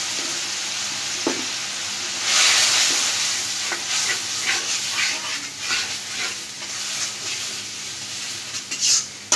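Spices with salt, cumin powder and ginger garlic paste fry in hot oil and are stirred hard, a loud close sizzle with bursts of hissing and repeated scraping strokes.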